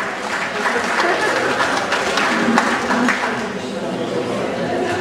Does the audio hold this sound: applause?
yes